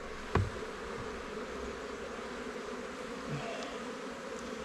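Honeybees buzz at a hive in an apiary in early February, a faint continuous hum with a single knock near the start and no talk.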